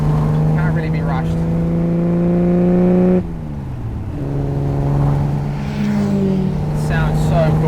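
Ferrari 250 GT Berlinetta Lusso engine pulling strongly while driving: a loud, steady, harmonic engine note that dips briefly during a gear shift on the old gearbox, then climbs again as it accelerates.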